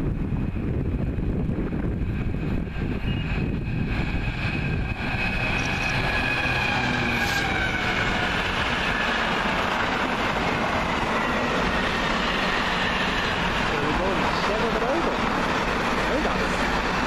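A train pulls into a station on a freezing cold morning, a steady rumble with clattering wheels and wind buffeting the microphone throughout, while people talk briefly nearby.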